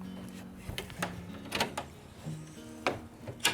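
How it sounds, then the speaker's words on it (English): Wooden doors inside a clock tower are opened, giving a series of knocks, creaks and latch clicks at close range, irregular and moderately quiet against a faint hum. "I need to open a couple doors here."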